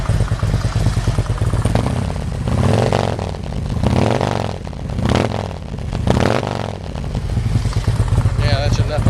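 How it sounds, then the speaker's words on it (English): A loud car engine roars through a Jackpot Pro-Touring exhaust and rises and falls in several revs, with a rough rumbling idle in between. "Now I'm going to try to do a couple of revs"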